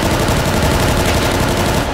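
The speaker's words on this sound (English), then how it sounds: "I can start shooting him" Rapid, sustained automatic gunfire in GTA 5 roleplay, a loud continuous rattle of shots with no talking over it.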